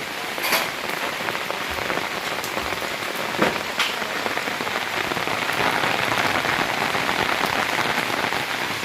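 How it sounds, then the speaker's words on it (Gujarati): Steady rain falls and patters on hard surfaces, a dense continuous hiss with scattered louder drips close by. "વરસાદ ચાલુ છે મમતા પોતું કરે છે અને ચાલુ છે વરસાદ"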